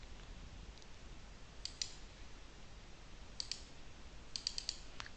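Crisp computer mouse clicks while editing in Photoshop, a few isolated single and double clicks over a steady faint hiss, close and quiet.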